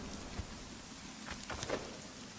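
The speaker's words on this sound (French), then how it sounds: "il pleut, c'est ça qui est drôle, on entend bien le bruit" Steady rain falls in the video game Conan Exiles, a constant hissing wash with a few louder drops and ticks standing out, no voices.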